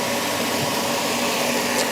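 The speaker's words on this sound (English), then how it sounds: "And the easiest way to pump it out is straight through the heat pump." A Kensa ground source heat pump runs steadily as it pumps fluid out into drums, giving a loud, continuous whirring hum with no pauses.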